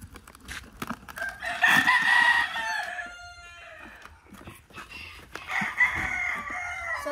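A white Kelso rooster crows loudly and close by, then again a few seconds later, with hens clucking softly around it.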